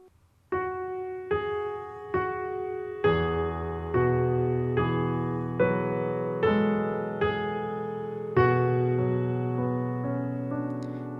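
Solo piano plays a piece, the melody over left-hand chords, with about ten evenly spaced struck chords that ring and overlap, close and steady, with no talking.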